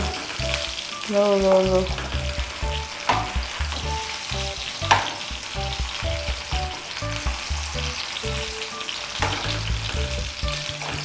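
Sausages fry in a pan over low heat, a steady close sizzle with crackling spits and occasional clinks as they are turned, no voices over it.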